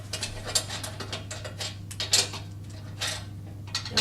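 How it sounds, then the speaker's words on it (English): Steady metallic ratcheting clicks from a spanner working nuts loose on the inside of a Hyundai HYLS4000H log splitter stand, repeated in short close bursts over a constant low hum. "using your spanner, the nuts are on the inside. Loosen the nuts."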